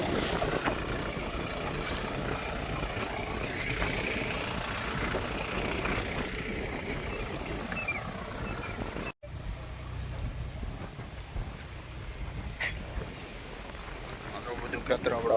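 A tractor sowing sorghum in a farm field runs with a steady engine drone under rough wind buffeting, continuous and fairly close, with one brief dropout midway.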